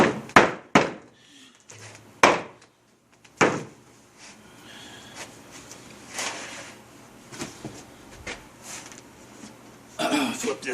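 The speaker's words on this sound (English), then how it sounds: "Come over with my trusty hammer, mallet." Mallet blows tapping glued oak chair joints together during a glue-up in a refinishing shop: a handful of sharp, near knocks spaced irregularly, some in quick pairs, with softer shuffling and handling noise between them.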